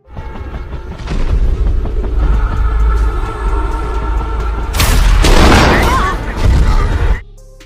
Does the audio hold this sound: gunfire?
yes